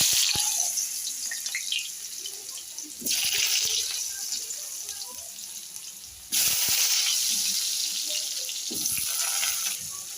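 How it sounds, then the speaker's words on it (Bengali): Potatoes sizzle in oil left over from frying fish, a close, steady hiss that swells louder in bursts, as if stirred or turned, with no talking. "এবার আলুগুলো ভাজবো। ওই তেলেই আমি আলুগুলো ভাজবো।"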